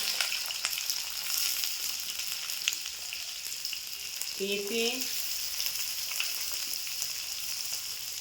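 Potatoes and carrots frying in a pan for a winter vegetable dish give a soft, steady sizzle that stays faint throughout, with a single brief spoken word partway through.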